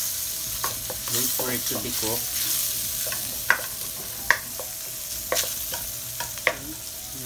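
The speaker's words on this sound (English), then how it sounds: "Keep on stirring so that it will stick at the pan." Carbonara with egg is stirred in a pan over a soft sizzle, with a handful of sharp utensil clicks against the metal; a voice speaks briefly near the start.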